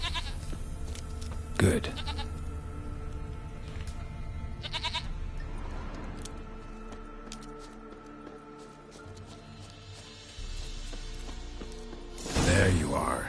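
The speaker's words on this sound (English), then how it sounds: "Here, goat." Goat bleating in The Witcher 3 video game, a few short bleats with outdoor ambience and game sound effects, someone speaking briefly.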